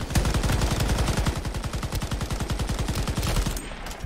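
Rapid automatic gunfire from the XM-27 Pacifier in the Shatterline shooter game rattles out in a fast, steady stream of loud, evenly spaced shots, then tapers off near the end.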